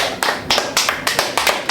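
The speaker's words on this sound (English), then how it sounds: "Give it a little clap." Seven quick, light hand claps in an uneven rhythm, fairly close and moderately loud, each a short sharp slap with no talking between them.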